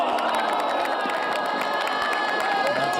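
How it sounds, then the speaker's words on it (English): A large crowd at a KLPGA women's golf tournament playoff cheers and shouts continuously and loudly, with whoops rising above the roar. "That's a good amount of cheer"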